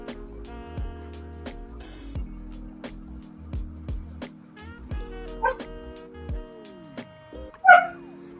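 A playful puppy yips and barks in short bursts separated by pauses, with soft whimpers and a sharper high yelp near the end, heard nearby in a quiet room.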